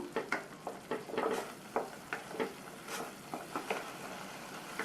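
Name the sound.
masala with coriander powder being sautéed in oil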